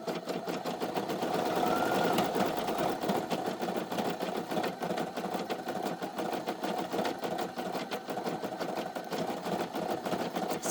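A Brother SE1900 embroidery machine stitches a patch in cotton thread, a continuous close, steady rapid mechanical chatter lasting the whole stretch.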